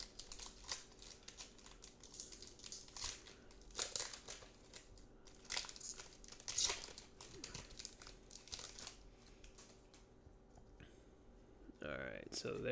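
Pokemon Unbroken Bonds booster pack wrapper being torn open and handled, with bursts of crisp crinkling and tearing foil, close and fairly quiet, trailing off near the end.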